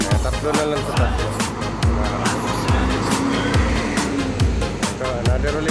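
A bus, number 3B, rolls past amid heavy road traffic on a trip from Manila to Baguio, with engines droning, rising and falling as vehicles sweep by, and steady loud rumble throughout.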